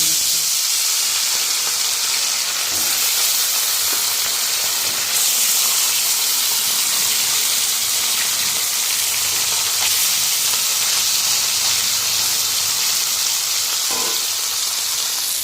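Salted tilapia pieces fry in oil in a wok after potatoes were fried in it, a loud continuous hiss and sizzle that stays steady throughout, with a few faint clinks and no talking.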